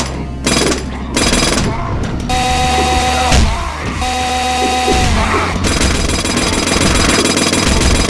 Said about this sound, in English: here, we get the pile bunker, the jackhammer.